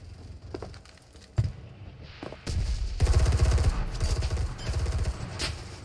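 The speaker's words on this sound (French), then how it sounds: "Je tire de quoi au hasard" Gunfire in the shooter game Enlisted, with bursts of rapid automatic shots and single cracks swelling into a dense, continuous barrage that dominates the second half, loud and close.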